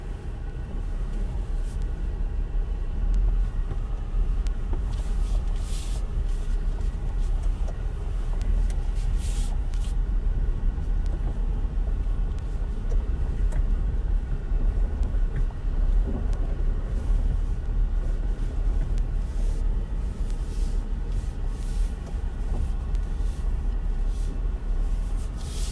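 A 2020 Ford Super Duty Tremor truck creeping down a steep off-road trail with a steady, subdued engine and drivetrain rumble and faint scattered crunches, with no talk.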